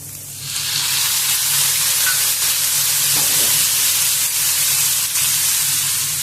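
Chopped tomatoes hit onions frying in a pan for dried fish curry, setting off a loud, steady sizzle that rises quickly and then holds, with faint scraping now and then.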